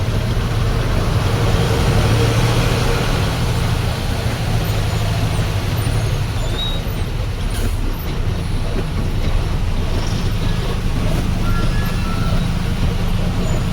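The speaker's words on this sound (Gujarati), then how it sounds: "વરસાદ ચાલુ હોય ટ્રાફિક ચાલુ છે બધું ભેગું છે" Continuous roar of slow highway traffic in heavy rain near Vadodara, trucks and cars rumbling close by under steady rain hiss, an unbroken dense wall of noise without speech.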